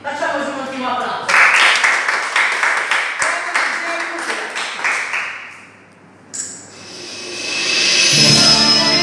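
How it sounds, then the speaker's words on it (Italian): An audience applauds at the end of a dance performance, with loud rhythmic clapping and cheering that builds, fades briefly, then swells again with music. "Facciamo un ultimo applauso."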